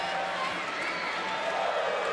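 Indoor arena crowd at a Minnesota vs Purdue college volleyball match, roaring and cheering steadily after a big block, with a broad, sustained wash of many voices.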